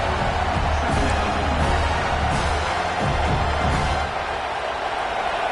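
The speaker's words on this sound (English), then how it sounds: "this home crowd is fired up and ready to make a difference today" Stadium crowd in the College Football 26 video game, Oklahoma vs. Penn State, a dense, steady roar of cheering that stays loud and continuous with a slight drop near the end.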